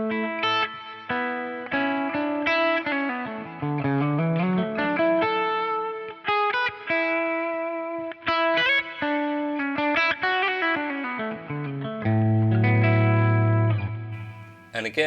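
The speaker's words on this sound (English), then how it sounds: "I've got my Glitz reverb, which is, I think, my favourite reverb in the world" Glitz reverb on a modeled Marshall JCM800 2203 guitar amp in a Helix processor, a distorted electric guitar playing sustained chords and melodic lines that swell and bloom into a lush, lingering wash with chorus-like shimmer.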